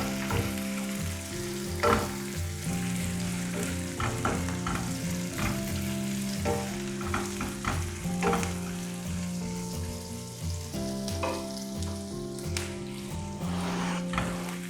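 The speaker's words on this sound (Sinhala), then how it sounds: "මෙන්න මෙහෙම හොඳට කලවම් කරගෙන මේක පොඩි වෙලාවක් ටෙම්පරාදු කරගන්න ඕනේ." Dried tuna fish and spices temper in hot oil for a Sri Lankan curry, sizzling steadily up close while a spoon stirs with repeated scrapes and knocks against the pan over background music.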